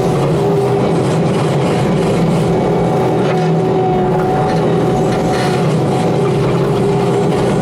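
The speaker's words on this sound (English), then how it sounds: "Again, I can cut on big stumps." A skid steer with a stump grinder attachment cuts into a large stump, giving a loud, steady engine roar with a dense mechanical rumble that stays constant throughout, close by and with no voices.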